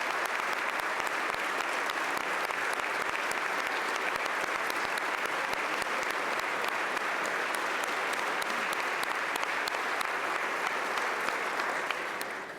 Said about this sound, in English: everybody seems to clap for the First Lady